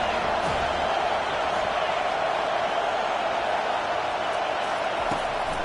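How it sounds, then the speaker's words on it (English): Stadium crowd at an NCAA football game roaring in support of the defense on third down, a steady, loud wash of cheering, with a commentator talking over it. "Decibels rising as the crowd gets behind this defense on third down."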